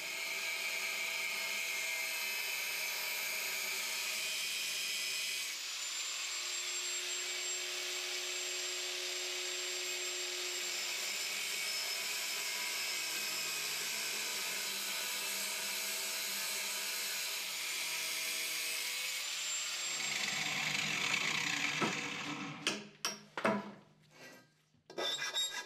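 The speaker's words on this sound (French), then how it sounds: "Sciez ensuite les morceaux à retirer." Steady, continuous rasping of a saw cutting pieces from wooden supports above a cabinet, loud and close, sustained for about twenty seconds before breaking into a few sharp knocks and clatters at the end.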